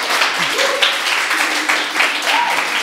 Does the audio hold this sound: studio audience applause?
yes